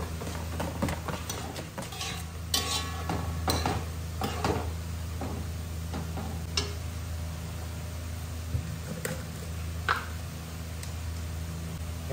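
Carrots and celery being stir-fried in a pan for pancit guisado, a steady sizzling hiss with scattered scraping and clinks of a utensil against the pan, close, with no talk.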